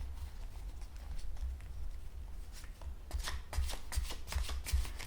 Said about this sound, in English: Let me just shuffle the cards a little more.